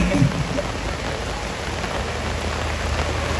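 Heavy rain pours down on an outdoor Bondres comedy show at a Bangli city anniversary event in Bali, a dense, steady hiss of drops that fills the whole stretch, with no one talking.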